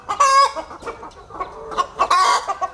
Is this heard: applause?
no